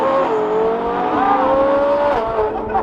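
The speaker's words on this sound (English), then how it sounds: "We were fighting traction. You could feel the tires spinning." A supercar accelerates hard while its tires fight for traction. The engine note climbs and holds loud and near, with a rising whine and a brief tire chirp, and no voices are heard.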